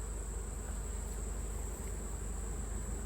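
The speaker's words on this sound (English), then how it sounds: "That's a whole sheet of winter bees." Honeybees buzzing in an opened hive during an October inspection, a continuous close droning hum from many bees with no gaps.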